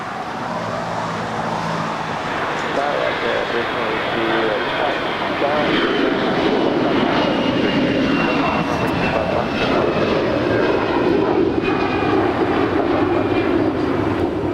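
American Airlines jet rolling for takeoff on runway 25 right at Los Angeles International Airport, engines building to a loud sustained roar, with radio-style talk over the top throughout.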